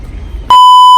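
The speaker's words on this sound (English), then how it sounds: "You're gonna have to beep that out" A single loud, pure electronic beep cuts in abruptly for about half a second, following a moment of faint background noise.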